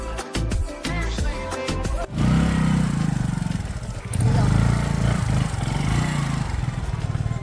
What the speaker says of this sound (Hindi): मैं इस बाइक को घर ले जाता हूँ